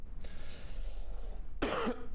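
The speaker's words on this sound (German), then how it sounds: "Einmal husten." A single close cough bursts out near the end, preceded by quiet breathy throat noise over a low background hum.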